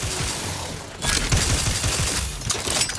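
An enemy in the sci-fi game The Outer Worlds 2 sprays a sustained hissing, rushing burst of gas with rumbling noise underneath, loud and close, with no talk.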